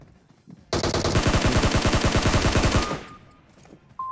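Automatic gunfire from a Scar rifle in a mobile shooter game: a single loud, rapid burst of closely spaced shots lasting about two seconds, then a short electronic beep.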